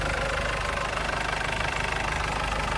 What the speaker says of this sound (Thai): เปิดเครื่องแห้งๆนะครับไม่มียอดเยิ้มนะครับ